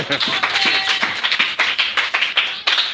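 A church congregation claps rhythmically and energetically at close range, a dense run of hand claps in a steady beat with voices mixed in.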